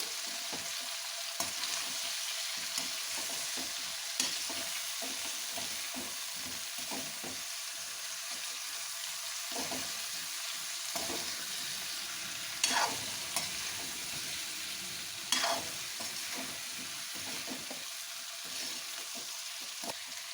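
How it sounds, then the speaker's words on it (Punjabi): Spices with ajwain being stirred in a pan for a Punjabi-style cauliflower and carrot pickle, a continuous soft sizzle with repeated scraping strokes of a spoon and a few sharper clinks, no talking. "ਨਾਲ ਹੀ ਅਸੀਂ ਇਹਦੇ ਵਿੱਚ ਇੱਕ ਚਮਚ ਜਵੈਣ ਪਾ ਦਾਂਗੇ ਮਿਕਸ ਕਰ ਲਾਂਗੇ ਸਾਰੇ ਮਸਾਲਿਆਂ ਨੂੰ"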